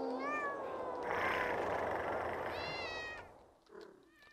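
In the video game Thirty Flights of Loving, several cats meow in long, tuneful, rising cries over a loud, noisy ambient wash, with the sound fading toward the end.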